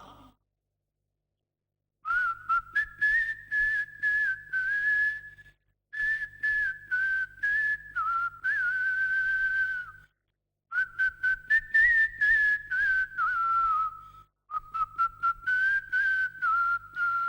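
A man whistles a tune loudly and close up in four long phrases separated by short pauses, with a wavering melody and breathy, rhythmic pulses throughout.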